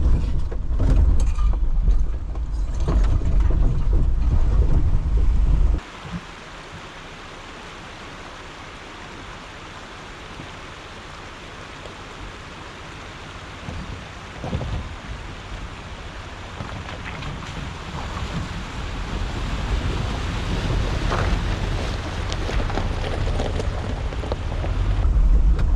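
Volkswagen Vanagon (two-wheel drive) fording Cow Creek, a loud rushing water and engine wash at first, then a steadier churning roar of water and motor that gradually builds again toward the end, with no talk.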